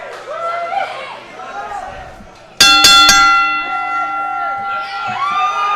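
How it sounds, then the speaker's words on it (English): A wrestling match bell rings in a quick burst of bright metallic clangs, loud and close, amid crowd chatter and announcer talk that continues afterward. "The bell's been rung. The match is underway."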